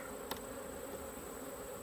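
Honeybees from backyard resource nucs hum steadily around the nucleus colonies outdoors, with a constant close buzzing drone and one brief louder pass of a single bee.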